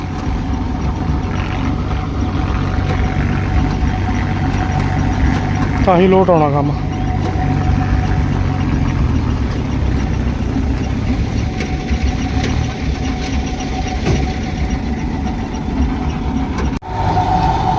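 Tractor engine idling loudly in a wet paddy field where the tractor's jacks are stuck in the mud, a steady close drone lasting throughout with people talking over it.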